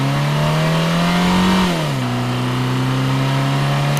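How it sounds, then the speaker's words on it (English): A simple looped, pitched vehicle engine sound, a steady artificial hum that holds its pitch, dips smoothly partway through, then settles at a slightly lower tone, loud and continuous with no other sounds. "A simple pitching loop, it's very predictable. It sounds very linear, it sounds very, uninteresting, it sounds very artificial."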